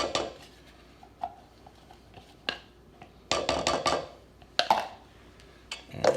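Pound cake batter is stirred by hand in a bowl, with intermittent clinks and scrapes of a utensil against the bowl between quieter stretches of mixing.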